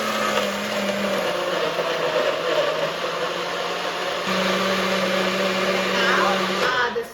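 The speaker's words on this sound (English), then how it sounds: "And blend the smoothie until combined." A blender whirs loudly and steadily, churning a mango spinach smoothie with milk and ice cubes, with the motor pitch shifting slightly as the mixture smooths out.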